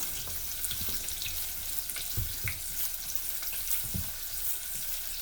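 Onions and a sprinkle of flour frying in a pan, a steady soft sizzle with scattered stirring knocks and scrapes throughout, no talking.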